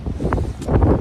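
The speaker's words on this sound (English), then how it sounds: "It's getting kind of windy." Wind blowing outdoors straight into a microphone, giving a loud low buffeting rumble with gusty puffs throughout the short moment.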